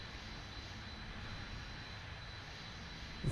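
A small airplane's engine at idle throttle in flight drones as a steady, even hum with broad wind rush, unchanging throughout and slightly louder at the very end.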